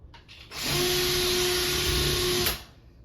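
A power drill drives a screw into a dance pole bracket in one steady burst of about two seconds, a close, loud motor whine with a clear rising pitch before it stops abruptly.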